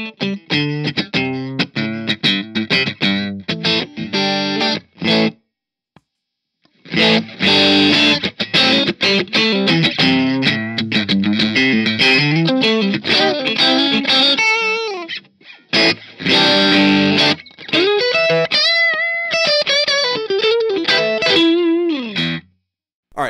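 An electric guitar through a Bad Cat Hot Cat 45-watt amp with a cleaner setting plays lively chords and single-note runs, loud and close, with a couple of short pauses between phrases.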